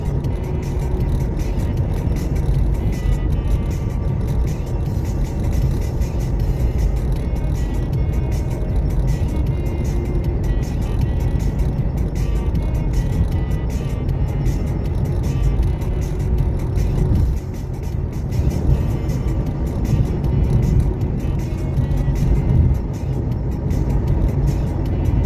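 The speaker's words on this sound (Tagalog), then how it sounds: "Maraming sasakyan ngayon guys." Heavy road traffic on a Friday morning, many cars passing in a constant loud roar of engines and tyres with small swells as vehicles go by, no voices.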